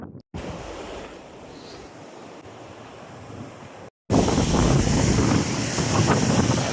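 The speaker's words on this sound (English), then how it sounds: "That's about as up close as personal as I've ever got with the river." A river rushes loudly beside the Everest base camp trail, a broad steady roar of water with wind buffeting the microphone, growing much louder after a brief cut.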